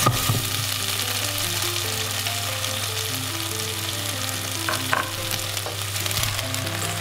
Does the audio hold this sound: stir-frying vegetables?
yes